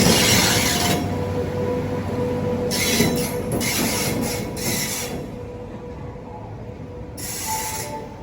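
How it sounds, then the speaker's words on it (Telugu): Train hauled by a WAG-9 electric locomotive rolls into platform 7 at a station, a steady loud rumble of wheels with bursts of high metallic squeal and hiss coming and going over the continuous drone. "WAG-9 లోకోమోటివ్ పుల్ చేస్తుంది ఆ బండిని"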